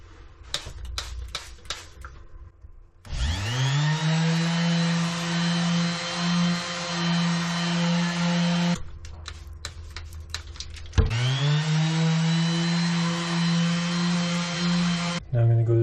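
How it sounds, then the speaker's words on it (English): A power sander wet sands an epoxy river charcuterie board with 600 grit paper in two steady humming runs of several seconds each, separated by clicks and handling noises. "I'm going to move on to 600 and do a bit of wet sanding."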